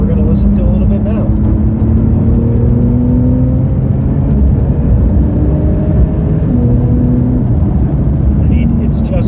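A Porsche 911 GTS of the 991.2 generation drives along, its flat-six engine and exhaust giving a loud, steady low drone with rising and shifting tones as revs change, heard from inside the car.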